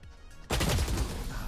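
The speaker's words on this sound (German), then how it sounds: "hier waren alle 10 Schüsse, die du gefeuert hast, drauf" A burst of pistol gunfire in a video game erupts suddenly after a quiet half-second, a loud, dense volley of shots that carries to the end.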